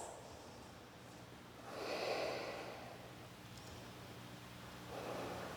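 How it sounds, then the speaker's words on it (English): Deep, slow breaths during a yoga session, faint and close, with two soft, airy exhalations swelling and fading in an otherwise quiet room. "Let's take a couple breaths."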